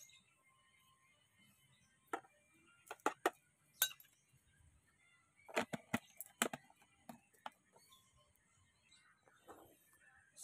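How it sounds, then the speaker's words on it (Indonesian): MKP fertilizer being stirred into a bucket of water to dissolve, giving scattered light clinks and knocks against the container in irregular bursts, faint and close with no talking. "Setelah itu kita aduk merata supaya larut dan tercampur"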